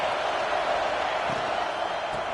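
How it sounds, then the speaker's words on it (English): Stadium crowd at a college football game against Oregon, a continuous far-off roar that holds steady and loud across the whole stretch, with no clear single voice standing out. "This crowd trying to make life miserable for this offense."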